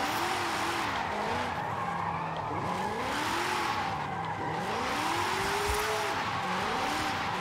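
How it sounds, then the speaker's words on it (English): Continuous tire squeal from a car drifting around a roundabout in Forza Horizon 5, a loud wavering screech riding over steady engine roar with no talk. "So I'm just gonna drift around a bit."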